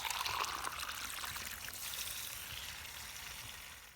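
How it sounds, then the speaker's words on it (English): Water pours steadily from a Drummond transfer pump from Harbor Freight as it drains a hot water heater, a loud continuous rushing gush that eases slightly after the first half second and carries on without talk. "you see how this water is really coming out of here with that pump"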